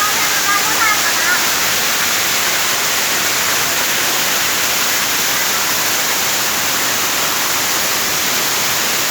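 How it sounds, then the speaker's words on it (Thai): Waterfall at Tham Soda cave in Nong Phok, Roi Et, a loud, constant rushing roar of falling water that holds steady with no break. "แล้วก็ดูน้ำตก"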